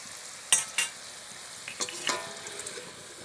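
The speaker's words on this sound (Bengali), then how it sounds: "দেখুন আলুটা কিন্তু খুব ভালোভাবে লাল লাল করে ভাজা হয়েছে" Potatoes deep-frying in hot oil for vegetable chop give a soft, even sizzle, with a few sharp clatters of a spoon or ladle against the pan, close by and without talk.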